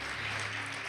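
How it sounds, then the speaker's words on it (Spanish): A church congregation claps together in a dense, loud, sustained burst of applause that fills the whole moment without a break. "Amén, dale fuerte, fuerte ese aplauso al Señor."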